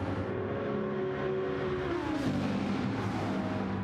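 Race car engines held at full throttle in Gran Turismo 7, a continuous loud droning roar with gliding harmonic tones as pitch shifts mid-way, steady and close with no talk.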